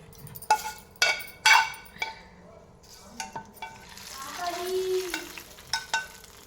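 Tempering spices for a green chilli chutney hit hot oil, bursting into sharp sputtering crackles in several loud bursts, then a softer sizzle with light clinks of a spoon, close by and without talk.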